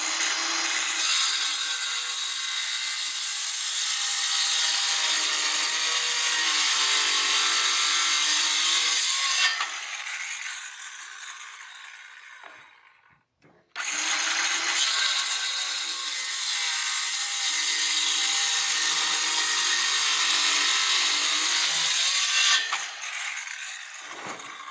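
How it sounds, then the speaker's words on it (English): A Craftsman 19.2V cordless saw cuts through a wooden board in two long, loud, steady rasping passes, separated by a brief pause midway. "We'll cut it in the next board now."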